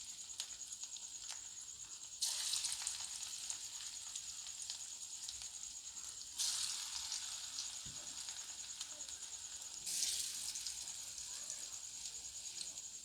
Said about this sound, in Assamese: এতিয়া মই ভাতকেৰেলাখিনি অলপ অলপকৈ এড কৰিম।